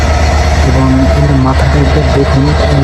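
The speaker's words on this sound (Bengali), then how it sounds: "আশা করি আপনারা এর ইঞ্জিনের দানবীয় গর্জন শুনতে পাচ্ছেন" A loud, steady diesel locomotive engine roar fills the whole clip, with someone talking over it.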